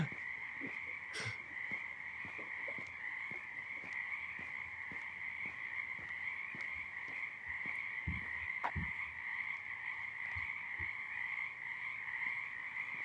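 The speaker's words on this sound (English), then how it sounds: "I don't have crickets, but I can play frogs while I wait." A chorus of frogs croaks steadily from a recording played back, with a continuous trilling drone and repeated sharp calls pulsing throughout, no voices present.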